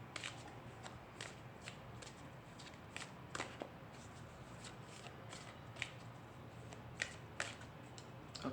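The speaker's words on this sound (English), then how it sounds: "Okay, I'll just cut the deck." A deck of tarot cards being shuffled by hand, close repeated crisp riffles and flicks in an irregular rhythm over a low steady background hum.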